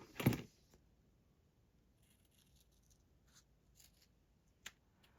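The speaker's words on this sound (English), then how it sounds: "I'm just trimming, trimming, trimming" Scissors trimming paper for a weekly spread, one loud close snip at the start followed by quiet rustling and a few faint cuts, with a second small snip near the end.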